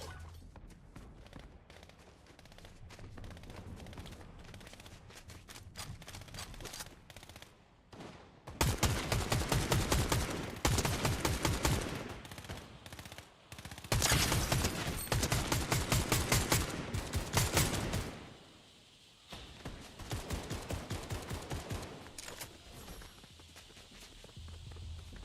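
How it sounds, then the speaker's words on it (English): Gunfire in a Fortnite match, with rapid bursts of shots and fusillades in loud dense clusters, broken by quieter stretches of movement and footsteps, and no talking. "We have some gunshots nearby."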